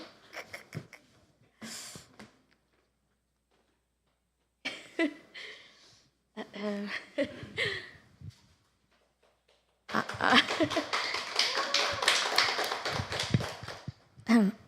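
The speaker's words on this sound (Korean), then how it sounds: "우리 박수 한번 하겠습니다" A church congregation applauds to welcome a young woman coming forward to give her testimony: dense, close clapping bursts in for the final few seconds after sparse earlier sounds and brief voices.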